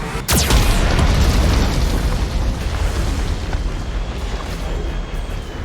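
Heavy explosion from a Geth cannon in the video game Mass Effect 2: a sharp, loud blast right at the start that rolls into a long, rumbling roar slowly fading over several seconds, with no voices.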